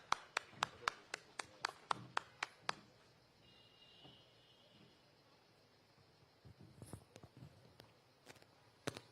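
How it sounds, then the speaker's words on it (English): A book launch audience at a literary festival in Shillong claps in a brief burst of sharp, fairly close hand claps that quickly die away, followed by scattered quiet taps and soft room noise. "Let us have a round of applause for Avner Paryat's Ki Sni Thame Uhinyotrap."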